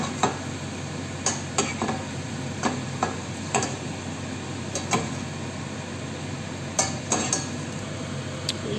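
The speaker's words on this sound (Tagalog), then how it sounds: "At yung soya sauce natin guys. Ayan. Haluin lang po natin." Chicken adobo with vinegar and soy sauce is stirred in a pan, with sharp spatula scrapes and taps at uneven intervals over a low, steady sizzle close by.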